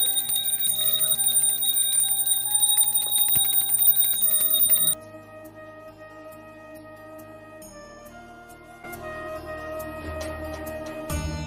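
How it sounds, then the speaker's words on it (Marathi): A hand bell rung during home Nag Panchami worship in the Konkan region, bright sustained metallic ringing that sounds loudly at first, then gives way to quieter tones and a softer renewed ringing toward the end. "नशीब कुठे घंटी आणली म्हणून."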